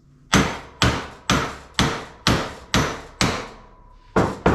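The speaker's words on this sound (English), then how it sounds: "it's not the best idea to be whacking your prop shaft, but it is coming out." A hammer strikes a Land Rover Defender 110 200Tdi prop shaft universal joint held in a vise, giving eight loud metallic blows in a steady rhythm, each ringing briefly before the next.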